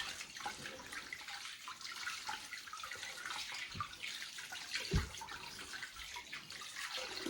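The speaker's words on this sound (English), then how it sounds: "So continue to wash our small potatoes" Small potatoes being washed in a bucket of water make a quiet, continuous splashing and sloshing, with a couple of slightly sharper splashes near the end.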